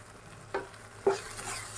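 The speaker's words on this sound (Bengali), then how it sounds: "এখনো মশলা ভালো মতো কষানো হয়নি, কষাতে থাকবো যতক্ষণ না তেল ছেড়ে বেরিয়ে যাচ্ছে ততক্ষণ পর্যন্ত।" Spice masala being stir-fried in oil for Kashmiri aloo dum, sugar added, a faint steady sizzle broken by two soft spatula scrapes against the pan.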